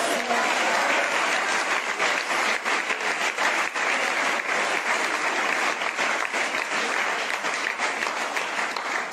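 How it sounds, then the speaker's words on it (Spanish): Church congregation at a Pentecostal service applauding steadily for about nine seconds, a dense, even wash of clapping from many hands filling the room without a break. "Alguien que lo crea, que le dé un aplauso a él."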